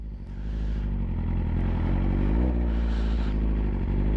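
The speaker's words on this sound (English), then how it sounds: "once you let it out, the bike will start coasting and moving" A motorcycle pulling away as the clutch is gradually let out, its steady mid-pitched engine drone holding loud and close, rising slightly as the bike begins rolling.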